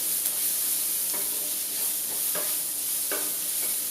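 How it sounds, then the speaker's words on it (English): Garlic and ginger fry in a hot pan for okra masala, a steady close sizzle with a few stirring scrapes of the spoon against the pan, no voices. "So I'm going to be putting in some garlic and some ginger."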